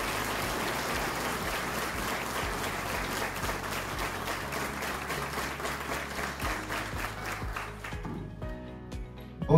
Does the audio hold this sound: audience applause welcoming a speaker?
yes